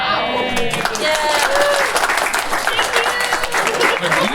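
A live tabletop RPG session at Gen Con 2019 draws applause from the audience, steady clapping that runs throughout while a presenter keeps talking over it.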